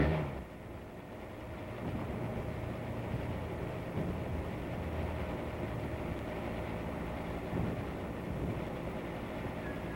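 A two-cylinder army truck engine repurposed to drive a hillside lift runs with a steady, continuous mechanical rumble and clatter, loud and close, without pause and with no talk.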